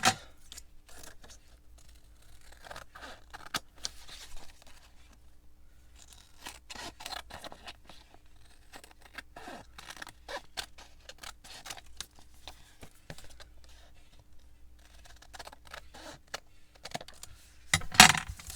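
Scissors snip and trim paper for a handmade beach journal, with steady close-up cutting, rustling and light scraping across a quiet tabletop, ending in a louder burst of paper handling.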